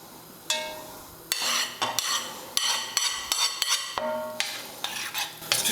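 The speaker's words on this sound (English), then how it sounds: "So we're just going to stir it all in" Ziti pasta being stirred into a beef and onion sauce in a pot, with repeated clinks and scrapes of a utensil against the pan at an uneven rhythm, close and fairly loud, no talking.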